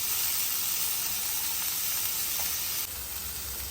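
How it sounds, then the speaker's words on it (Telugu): Small bitter gourds fry with onions in a pan, giving a steady loud sizzling hiss that continues evenly throughout and softens slightly near the end. "ఈ విధంగా ఒక 5 నిమిషాలు వేగనివ్వాలి."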